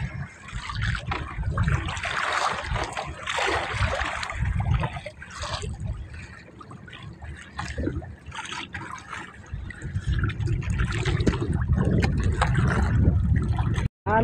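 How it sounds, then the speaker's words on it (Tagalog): Waves slapping and trickling against a small fishing boat on Manila Bay in a strong northeast wind, an uneven sloshing and gurgling of water close by that swells and fades, with faint bits of voice. "Nagkaroon na naman po ng alon"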